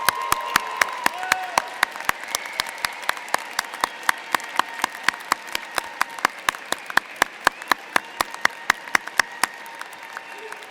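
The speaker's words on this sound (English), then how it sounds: "give them a big round of applause" Graduation ceremony audience applauding steadily, a dense wash of many hands clapping with sharp individual claps standing out, sustained at moderate level throughout.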